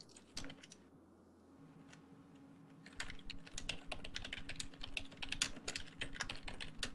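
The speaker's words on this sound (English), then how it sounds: "Listen to you typing away" Fingers tap away at a computer keyboard, sparse keystrokes at first, then a quick, busy clatter that carries on to the end, fairly quiet and close.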